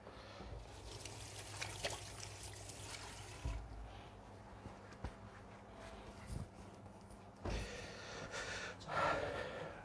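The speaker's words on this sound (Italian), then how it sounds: "Ora mi lavo le mani." Hands are washed under a running kitchen tap, giving a soft, continuous trickle with occasional splashes and small bumps at low volume, and no one speaks.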